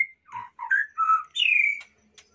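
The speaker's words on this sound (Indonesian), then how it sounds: "Pagi hari ini kita mau ngasih makan murai batu" A white-rumped shama sings a short series of clear whistled notes and warbles, close and alone in a quiet setting.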